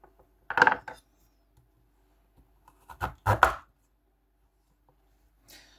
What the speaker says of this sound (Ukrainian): Пчак ріже морку легше, хоч і товстіший клинок.